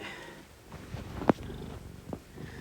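A pet cat purrs softly and close by, a low continuous rumble with a brief sharper sound partway through and no talking.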